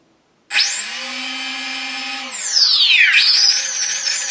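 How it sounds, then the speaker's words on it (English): Walkera Furious 320 drone motors spinning up as the throttle is pushed, a sudden whining start that holds steady, then sweeps down and climbs back to a higher buzzing pitch, loud and close with no talk. "you see these are the motors are responding"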